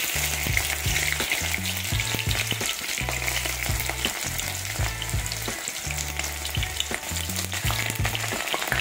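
Onions, carrots and other vegetables for a mixed sabzi with potato, cauliflower and brinjal sizzle steadily in hot oil, a dense, continuous frying hiss with occasional stirring knocks and a low hum underneath, close and alone with no talking.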